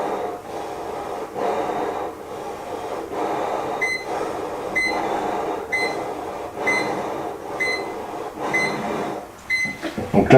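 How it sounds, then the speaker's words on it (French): A formaldehyde detector alarm beeps again and again in a steady rhythm, with breathing or blowing noises underneath from someone breathing through a mask, and a rustle at the end. "vous entendez une alarme qui se met en route"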